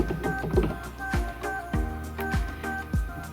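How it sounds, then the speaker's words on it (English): Green polymer clay rolls through a hand-cranked pasta machine set to 3, giving a steady series of low mechanical clunks and grinding turns at a regular rhythm, close and fairly loud, with no talking. "I'm going to put it through the pasta machine"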